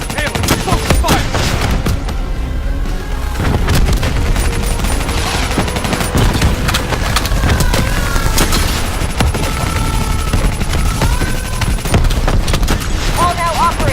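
Heavy gunfire concentrated on the Manticore in Call of Duty Black Ops 3, dense overlapping volleys and explosive booms roaring nonstop, loud and close, with voices calling out beneath the din.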